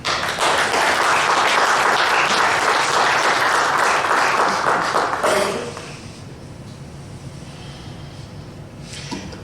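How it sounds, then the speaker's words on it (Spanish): A church congregation applauds loudly and continuously for several seconds, then the clapping thins and fades to scattered claps and room noise. "Denle un aplauso al Señor"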